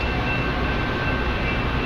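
A Metra commuter train passes close by in Western Springs as a continuous loud, broad rumble with a faint high whine and no break.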